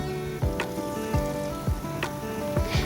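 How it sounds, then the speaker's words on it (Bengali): Potatoes frying in hot oil for jhuri alu bhaja, heard as a steady close sizzle with faint bubbling and a few short louder bursts, alone without voices. "এবারে ওই একই তেলের মধ্যেই আমি আলুগুলোকেও ভেজে নেব।"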